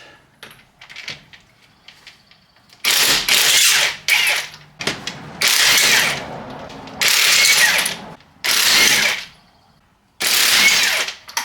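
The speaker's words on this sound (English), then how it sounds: "it's got this special little wrench for the lug nuts" A small wrench cranks on the lug nuts of aftermarket winter wheels on a Mercedes-Benz ML350, with loud bursts of rapid ratcheting separated by short pauses and faint handling noises between them.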